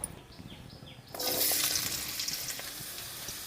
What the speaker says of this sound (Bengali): কিছু আলু কেটে রেখেছিলাম আমি আলুটা ভেজে নেব